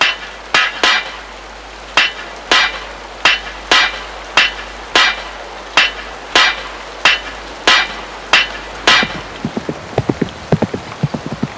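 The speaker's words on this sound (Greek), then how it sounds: "ήχοι μετάλλων σαν σήμαντρα απλώνονται στο προάβλιο" A metal semantron in a monastery forecourt on Mount Athos is struck repeatedly with sharp metallic clangs in a steady, unhurried rhythm, each hit ringing briefly, ending in a rapid flurry of quicker taps.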